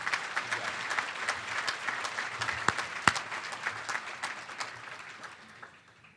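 Guests at a university baseball first pitch dinner give sustained applause, an even patter of many hands spread across the room that slowly tapers off near the end.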